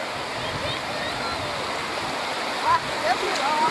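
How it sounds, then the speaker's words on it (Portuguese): Waterfall at Pedra do Navio, a steady broadband rush of falling water filling the whole clip at close range, with a few brief splashes and birdlike chirps near the end. "Vou mais para a frente filmar a queda d'água ali para vocês verem."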